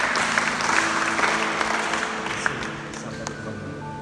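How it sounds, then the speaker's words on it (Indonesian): Congregation clapping during a church worship service in Semarang, a dense steady applause of many hands with some voices mixed in, fading slightly toward the end. "Kasih tepuk tangan."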